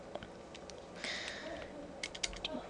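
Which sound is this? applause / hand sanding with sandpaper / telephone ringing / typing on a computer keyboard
typing on a computer keyboard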